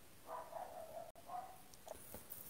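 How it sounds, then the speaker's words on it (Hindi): A small pet dog kept in a home gives a few short, high yipping barks, faint and slightly distant over a quiet background. "कुत्ते का आवाज है भाई"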